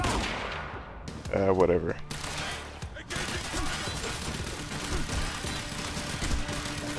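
Video game machine gun fire in a rapid, dense stream of shots that runs steadily through most of the stretch, loud and close, with a player talking over it.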